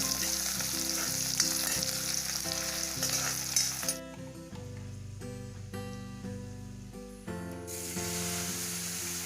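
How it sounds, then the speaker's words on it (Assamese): Onion, garlic and a split green chili fry in oil with a loud, continuous sizzle and stirring. The sizzle drops abruptly partway through and then returns. Music plays underneath, and no one speaks. "পিয়াজ নহৰুৰ লগতে মই এটা কেঁচা জলকীয়া ফালি দিছো আৰু ৰঙা হোৱালৈকে এনেদৰে ভাজি আছো"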